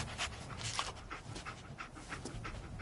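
Dogmeat, the dog in Fallout 4, pants in quick, steady, breathy puffs, close and moderately quiet, with no other sounds.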